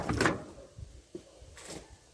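Handling the door panel of a 1965 Chevy, with a loud rubbing thump up front followed by a few softer knocks and a second scrape near the end.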